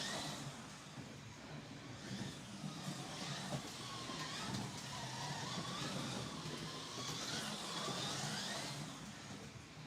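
Small Formula 1 slot cars run on a vintage-to-modern slot car track with analog timing, giving a steady, quiet electric whine that rises and falls as they lap, with no talking.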